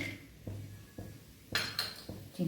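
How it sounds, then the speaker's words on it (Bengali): Peanuts dropped into a pan for frying while making South Indian groundnut biryani rice, giving several sharp metallic clinks and clatters spaced over a couple of seconds, close and fairly quiet, with no voices. "এবার এখানে আমি আগে বাদামটা দেবো। বাদামটা একটু ভাজতে হবে।"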